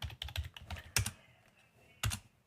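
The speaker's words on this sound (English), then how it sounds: "I'm just just going to type it again." Computer keyboard keys tapped as a password is typed, a quick cluster of close clicks followed by two sharper isolated strikes, likely the enter key, with quiet gaps between.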